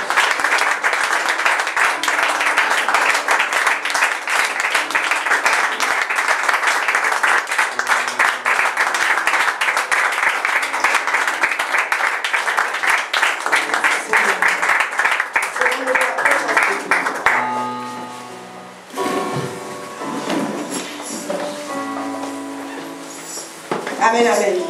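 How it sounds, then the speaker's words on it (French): A church congregation claps and acclaims together in a sustained burst of applause, dense and steady before fading, with voices and music continuing afterward. "Acclamons encore le Saint-Esprit."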